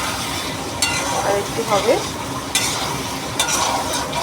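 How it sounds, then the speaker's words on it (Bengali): A spice mix fries in a hot pan with a steady sizzling hiss, broken by sharp clinks and scrapes as a spatula stirs it. Someone speaks briefly over the cooking. "চালিয়ে মশলাটা একটু ভাজা ভাজা হবে"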